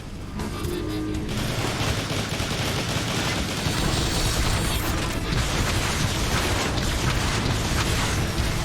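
Dense weapon fire and explosions fill a battle in the Transformers: War for Cybertron video game, a loud continuous barrage of rapid shots and blasts with an electronic whine at the start.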